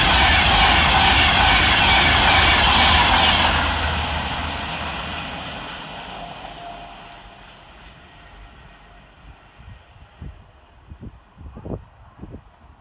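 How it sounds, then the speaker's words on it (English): British Class 390 train 390-104 passing through Tamworth station on the Manchester Piccadilly to London Euston service, a loud close rushing roar that fades steadily into the distance, then gives way to faint wind buffeting and scattered low thumps. "Quickly on his heels right behind him is 390-104, working 1 Alpha 45 from Manchester Piccadilly to London Euston."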